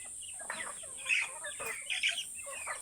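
Chickens waiting for their evening feed give a few soft clucks and short squawking calls, close and faint, with no talking.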